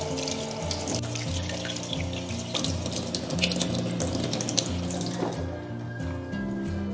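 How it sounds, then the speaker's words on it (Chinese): Running tap water splashes over a yellow croaker being rinsed in a kitchen sink, a continuous gurgling stream with irregular drips and splatters as the fish is handled, close and alone without speech. "肚子里面这些血块跟黑膜一定要给它清洗干净"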